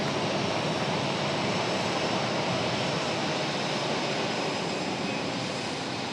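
An Airbus A319 jet airliner at Raleigh-Durham airport gives off a broad, steady roar of engine noise that holds constant and loud for the whole stretch, like a sustained rush with no voices.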